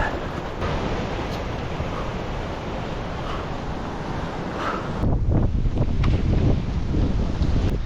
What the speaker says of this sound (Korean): 오늘은 바람이 너무 강해서